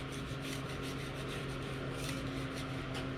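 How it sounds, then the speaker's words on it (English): Steel wool and a blunt old scraper rub back and forth across a grinder table, giving a steady close rasping scrape with quick repeated strokes under a faint constant hum. "I'm into the yuck with a little bit of steel wool, then a fairly blunt old scraper"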